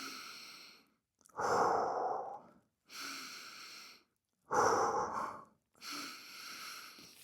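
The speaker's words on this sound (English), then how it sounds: "Deep breaths." Slow, deep breathing during easy stretching in child's pose: three loud, drawn-out exhalations alternate with quieter inhales in a steady rhythm, close and with no talking.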